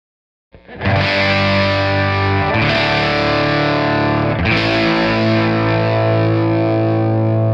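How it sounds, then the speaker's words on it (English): A Gibson Murphy Lab '58 Junior electric guitar played through a cranked Marshall amp, loud and heavily distorted, with three big sustained chords struck roughly two seconds apart, each ringing out thickly under the next. "I've had this thing plugged into a cranked up Marshall for the last 3 days, and this guitar just wants to be loud"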